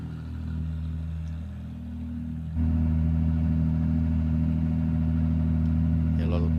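Ferrari Challenge race cars idle on the grid at Daytona, a steady low engine drone that grows louder and fuller partway through, with a commentator talking over it.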